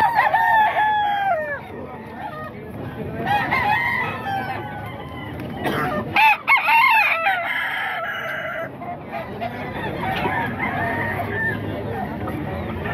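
Roosters crow at a market tiangge in Bocaue, several drawn-out calls mixed with clucking, near and fairly loud, while people talk throughout.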